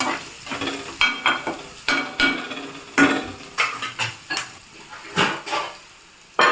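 Amaranth leaves (thotakura) fry in a covered pan on low heat, with repeated close clinks and scrapes of a spatula against the pan over a soft sizzle, no voices.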